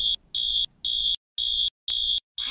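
Fire alarm going off in a building, sounding a loud, steady electronic tone in evenly spaced pulses of about a quarter second, roughly six beeps with short silent gaps, alone with no talking.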